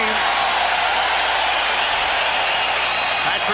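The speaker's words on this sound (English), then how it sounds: "This capacity crowd at Chicago Stadium looking to pump up the home team." A capacity basketball crowd at Chicago Stadium cheers to pump up the Bulls during the 1992 NBA playoff Game 7 against the Knicks. It is a steady, dense, continuous roar of noise throughout with no clear breaks.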